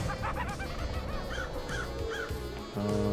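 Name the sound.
crows cawing in the video game Paradise Killer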